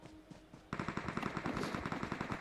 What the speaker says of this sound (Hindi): फायरिंग हो रही है भाई